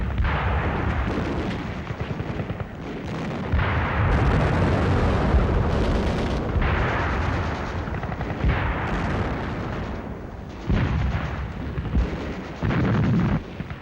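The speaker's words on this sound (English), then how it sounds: "this assault engineer knows exactly where to put his high explosive charge in order to destroy the blockhouse" A high explosive charge set by an assault engineer destroys a World War II blockhouse, with loud sustained booming blasts and rumbling detonations that roll on in heavy waves without pause.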